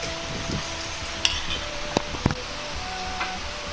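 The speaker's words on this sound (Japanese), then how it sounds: "これをよく混ぜ合わせておきます。" Soy sauce and ketchup mixed in a small dish, soft continuous stirring with a few light clicks of utensil against the container, quiet and close.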